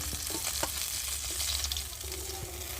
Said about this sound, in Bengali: চলো মাছগুলো আবার দিয়ে ভালো করে ভেজে নিই